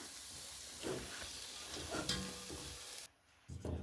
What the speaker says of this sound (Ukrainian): Бігом мішаємо і ставимо на, ну, має бути на малесенькому вогні.